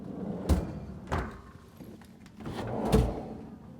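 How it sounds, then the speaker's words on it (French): Drawer of a double-drawer fridge on an Allures 45.9 sailboat opening in the galley, with a few soft thuds and a sliding rumble spread over a few seconds, fairly quiet and close. "et également au frigo double tiroir"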